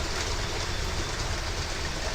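An electric EMU train runs with a steady, smooth broadband rumble and hiss, loud and continuous without clear rhythmic beats.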